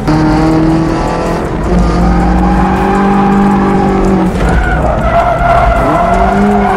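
A Mazda Roadster driving the Nikko circuit in reverse direction, its engine loud and close with revs rising and falling and tires squealing and skidding through corners.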